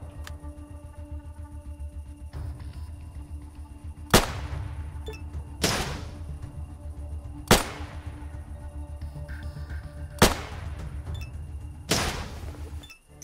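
Gunshots in a fight in the video game ATOM RPG, with five loud sharp blasts spaced a second or two apart over a steady low rumbling game ambience and no talk.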